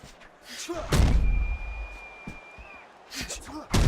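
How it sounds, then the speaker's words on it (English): Heavy punch thuds in a boxing video game as a blocked shot is followed by a landed hook, with a couple of loud slams standing out over a steady crowd roar and voices. "Scored well with the hook after blocking that shot."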